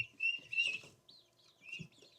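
Guinea keets and barnyard mix chickens make soft high peeps and chirps on a Maine homestead, with faint low clucks and light shuffling nearby in a quiet setting.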